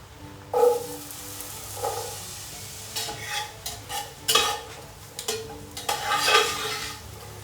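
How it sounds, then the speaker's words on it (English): Butter, onions and apples sizzling in a cast iron camp oven pan, with scattered stirring scrapes and utensil clinks against the metal, close and fairly quiet. "put a little butter in your spider. There, we'll just put a bit in and get a nice sizzle to it."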